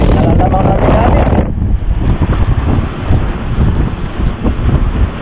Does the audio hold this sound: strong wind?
yes